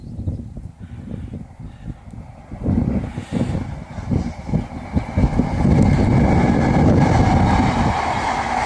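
A train rumbles past close by on the line between Hockley and Southend, its clattering wheels and rising roar growing louder and steadier as the cars roll through.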